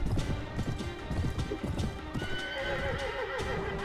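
A horse gallops and neighs in the medieval combat video game Mount & Blade, with close, rapid hoofbeats under battle noise followed by a drawn-out whinny.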